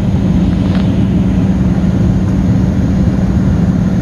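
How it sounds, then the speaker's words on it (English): Steady, loud roar of an airliner in flight on approach into Baltimore, a constant broadband engine drone heard from inside the cabin with no talking. "Airplane."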